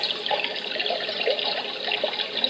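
A Dreamegg white noise machine plays its water setting, a steady close trickling and splashing like a running tap or small fountain, continuous and moderately loud with no voices.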